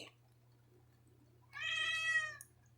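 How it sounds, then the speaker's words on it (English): A cat meows once indoors, a drawn-out tonal cry lasting about a second, close and clear over a steady low hum. "Don't mind the cat."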